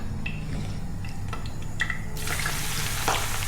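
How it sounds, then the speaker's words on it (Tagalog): Fresh eggplant frying in a pan, a steady close sizzle and crackle of oil running throughout with small pops, for a pasta with shrimp dish. "Prito naman natin itong talong."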